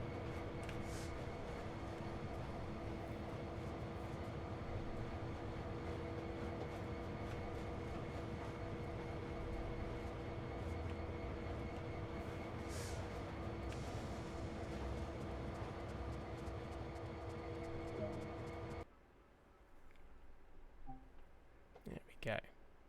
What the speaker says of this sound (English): Bring the locomotive to a stop.